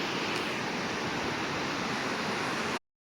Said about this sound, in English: I'm sure you can hear the water behind me.